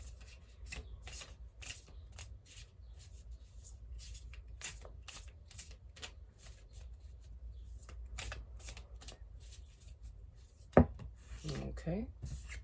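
Tarot cards are shuffled in a steady run of quick, soft riffling slaps, close and fairly quiet, with a sharper knock near the end.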